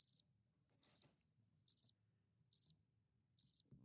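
Crickets chirp in five evenly spaced bursts about a second apart, each a bright, rapid trill standing out over a faint low background hum.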